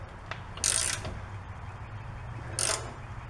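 A ratchet wrench snugs the rear shock bolt on a 1995-2005 GMC Safari van, with two short bursts of clicking about two seconds apart against quiet garage background.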